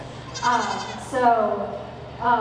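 Goats bleat three times in close succession at the Sheridan County Fair livestock show, each call loud and near, while a voice carries on in the background.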